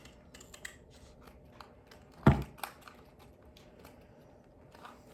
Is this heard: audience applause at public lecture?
no